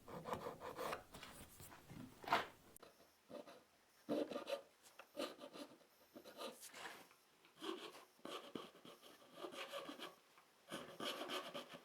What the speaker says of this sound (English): I was getting the file right into the corner there and just pulling it back